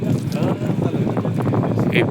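Small motor-driven boat towing a floating cottage slowly across the sea off Batangas, a steady engine and water wash under continuous wind buffeting the microphone throughout.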